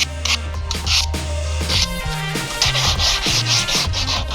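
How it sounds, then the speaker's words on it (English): Sandpaper rubs back and forth over the edges of cut wooden pieces for a homemade billy cart, a steady close scratchy rasping in repeated strokes, with no talking. "Clean up the edges with a piece of sandpaper so we don't get any splinters"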